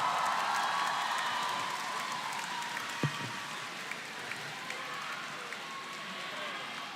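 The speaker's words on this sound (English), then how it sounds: "Let's give them a big round of applause" An audience claps at an esports event, the MPL Philippines Season 13 playoffs, as a steady wash of applause that fills the hall from a distance, moderately loud, with a few thumps and crowd noise underneath.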